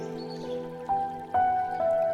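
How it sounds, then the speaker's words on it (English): Rainwater drips on a rainy day, a few distinct ringing drops landing one after another over a soft, quiet background. "I love the sound of the rain."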